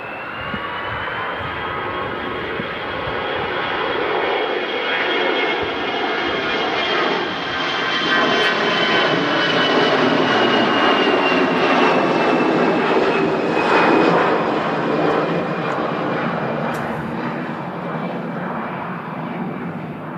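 An EasyJet airliner going around after an aborted landing at windy Manchester Airport roars loud and sustained, its jet engine whine rising and holding steady as it climbs past, with wind buffeting throughout.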